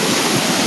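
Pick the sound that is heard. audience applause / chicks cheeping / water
water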